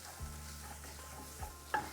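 Coriander, paprika and black pepper fry in hot oil in a pot while being stirred. A quiet, close sizzle runs underneath, with a few soft scraping strokes and a sharper clink near the end.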